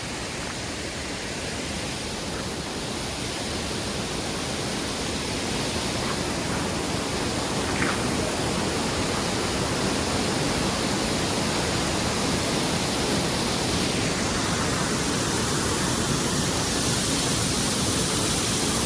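Neer waterfall near Rishikesh rushing in a dense, constant roar of falling water, loud and unbroken, with faint traces of voices beneath it.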